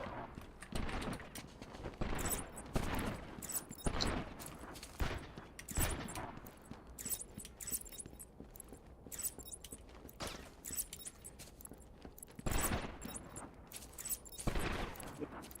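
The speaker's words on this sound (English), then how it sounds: "What the hell is that noise? Gunfire." Rapid bursts of gunfire crack repeatedly throughout, loud and close, with sharp clustered shots and brief pauses between volleys, from a firefight in the game Batman: Arkham Asylum.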